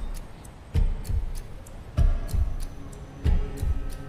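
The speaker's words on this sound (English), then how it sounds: "Do you hear my watch ticking?" A watch ticks in a steady rhythm, with evenly spaced sharp clicks and soft low thumps recurring close by in a quiet room.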